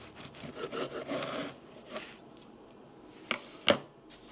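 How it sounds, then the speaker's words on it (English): A knife cuts through crackling bread crust: a run of rasping, sawing strokes, then a pause and two sharp, crisp cracks near the end, close and fairly quiet with no voices. "The knife glides in, the crust crackling under the blade, a crisp, delicate shatter."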